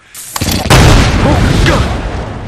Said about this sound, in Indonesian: Genset itu meledak karena bensin yang tumpah saat Jesse mengisi tangki.